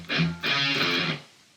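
Distorted electric guitar playing a short riff from a song, two brief chugging bursts followed by a sustained chord that rings out and cuts off, close and clear with no talking.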